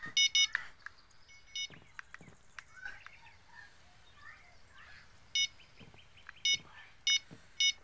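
Electronic bite-alarm beeps from fishing rods in the game Fishing Planet, sounding as short repeated bursts of high beeps, several at the start and a few more near the end, over quiet ambient nature sound.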